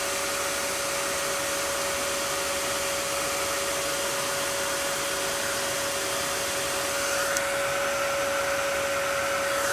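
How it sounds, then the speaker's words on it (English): A heat tool or dryer blows over craft material as a constant loud rushing drone with a fixed whine, alone and unbroken, its tone shifting slightly near the end. "I'm going to dry it down here because I know it'll flop around."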